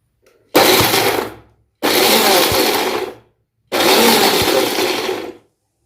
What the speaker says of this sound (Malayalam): ഇത്രയും ഒന്നിച്ച് മിക്സിയിൽ വെച്ച് ഒന്ന് ചതച്ചെടുക്കണം.